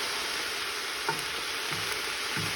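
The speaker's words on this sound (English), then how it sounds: "And you want to keep stirring so that they don't stick." Onions sizzle steadily in a pan for French onion soup, a constant broadband frying hiss with a few soft scrapes as they are stirred to keep them from sticking.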